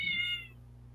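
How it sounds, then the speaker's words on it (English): A house cat gives a single short, clear meow that fades quickly into a faint steady background hum. "you hear my cat."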